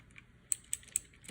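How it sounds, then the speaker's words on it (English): A Redragon K552 mechanical keyboard with Cherry MX Blue switches gives a few sharp, clicky keystrokes, three distinct clacks spaced evenly in a quiet room. "It's typing beautifully on my screen right now."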